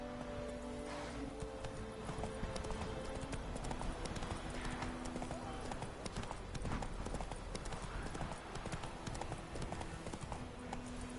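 Roach, Geralt's horse in The Witcher 3, galloping with rapid, continuous hoofbeats that stay steady and moderately loud throughout, with no voices.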